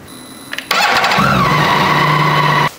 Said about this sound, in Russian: запущу двигатель и дам ему поработать секунд 20-30